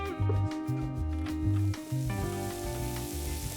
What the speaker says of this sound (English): Sizzling slices.